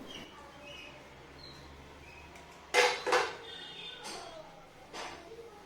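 Freshly washed pots and dishes being set on a kitchen shelf to dry, with a few sharp metallic clanks and clatters spaced apart over a quiet room background.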